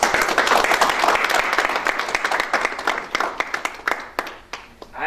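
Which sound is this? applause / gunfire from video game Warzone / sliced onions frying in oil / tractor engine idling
applause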